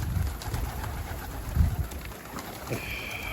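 Pigeons cooing nearby against a steady outdoor background hum, with a few soft thumps and some faint rustling.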